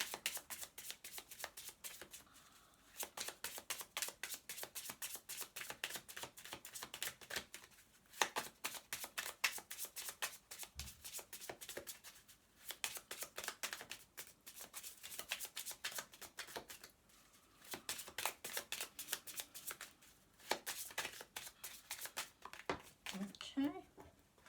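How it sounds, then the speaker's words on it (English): A deck of Angel Blessing Oracle cards is shuffled by hand in quiet repeated bursts of riffling and flicking, with short pauses between rounds and some soft speech alongside. "So I'm just going to pull 3 of these Angel Blessing Oracle cards as well."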